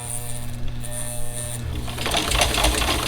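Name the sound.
sewing machine sewing bowl fillers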